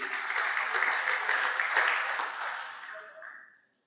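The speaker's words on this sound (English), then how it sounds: "let's give him a nice round of applause there" A conference audience at a no-till farming event gives a round of applause, a dense wash of clapping that holds steady for about three seconds, then fades to silence.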